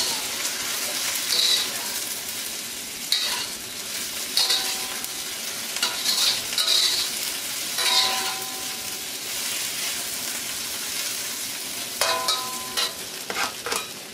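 Celery and other vegetables sizzle and hiss steadily in a hot wok, a continuous close frying crackle broken by scraping stirs and clinks of the utensil against the metal.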